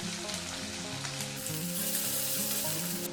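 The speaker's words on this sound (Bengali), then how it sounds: "তেলটা গরম করে নেব এর মধ্যে দিয়ে দিচ্ছি রসুন কোচা আর আদা কোচা একসাথে দিয়ে দিলাম" Crushed garlic and ginger frying in hot oil, a loud continuous close sizzle that holds steady throughout, with some faint tonal hum underneath and no talking.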